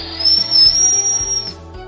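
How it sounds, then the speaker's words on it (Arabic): Shrill, steady toy whistle blown in one long continuous tone lasting over a second, loud and close, with a rhythmic electronic beat running underneath. "الصفارة الجميلة دي اللي هي"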